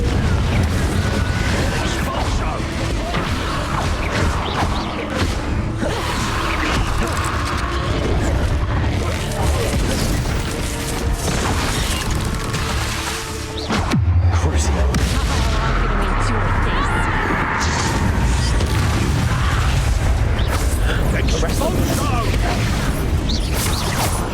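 Repeated Confringo fire-spell explosions in the Hogwarts Legacy video game, played on Nintendo Switch, sound as booming blasts over continuous loud game noise and music, with voices speaking throughout.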